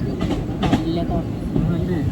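A packed Madurai–Rameswaram passenger train rolls along with a steady low rumble and faint rhythmic rattling, heard from inside, while a voice talks over it.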